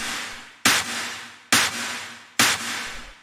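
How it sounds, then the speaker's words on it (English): A big, fat electronic clap sample from an industrial hard techno track strikes three times at an even pace, each hit loud and sharp with a noisy decaying tail, played alone. "the last sound we have here is just the clap"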